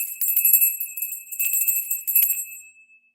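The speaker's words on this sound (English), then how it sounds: "So we're going to do the bell," A small bell rings during a tarot meditation session, giving a bright high shimmering tone with repeated tinkling strikes that sustain and then fade out near the end, alone without any talk.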